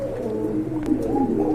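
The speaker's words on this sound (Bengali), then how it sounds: "আরেক জোড়া কবুতর দেখতে পাচ্ছেন মাশাআল্লাহ, সেম ক্যাটাগরির কবুতর" Big-sized pigeons at a pigeon seller's place coo in low, soft, rolling calls close by, a continuous murmuring backdrop with no talk.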